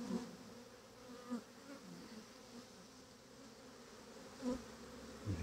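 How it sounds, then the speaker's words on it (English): A swarm of honeybees buzzes steadily and softly nearby, with a few individual bees flying close past in brief louder swells. "And here's the another load of bees."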